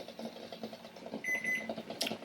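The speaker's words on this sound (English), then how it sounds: "Okay, timer is now up" A kitchen timer goes off beside a pot of eggs boiling on the stove, a short high electronic beep that sounds once or twice near the end over a steady low rumble of boiling water.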